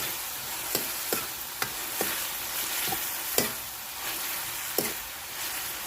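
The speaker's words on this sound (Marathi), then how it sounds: "तर हरभऱ्याची डाळ आणि मीठ टाकलं मी तर ते बी ना तेलामध्ये चांगलं परतून घ्यायचं" Chana dal and salt frying in oil in a pan, a steady sizzle broken by sharp scraping knocks of a spoon stirring at irregular intervals, close and alone.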